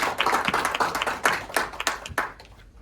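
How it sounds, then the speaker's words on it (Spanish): Applause and scattered clapping from an audience at an academic event on human trafficking, honoring the dean and the law program director; a dense burst of hand claps that thins out and fades, with faint voices underneath. "un aplauso para ellos porque gracias a ellos estamos acá"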